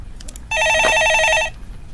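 A telephone rings on a radio stock-market call-in show, one steady electronic ring burst of about a second, loud and clear against low background noise.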